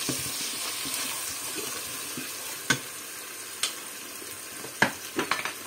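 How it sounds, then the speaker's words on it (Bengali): Spice masala with cinnamon frying in a pan for Peshawari chicken: a steady hiss with a few sharp scraping stir clicks toward the end, no voices. "আর এখন আমি মশলাটা ভালোভাবে কষাবো"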